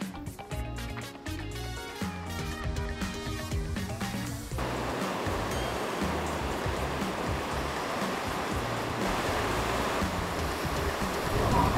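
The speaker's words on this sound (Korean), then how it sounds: "저희가 서핑을 하러 왔고요. 여기는 커럼빈 비치입니다" Surf breaking at Currumbin Beach on the Gold Coast, Australia: a steady, broad wash of waves rolling in continuously, loud and close, with music playing over the first few seconds before the ocean noise stands alone.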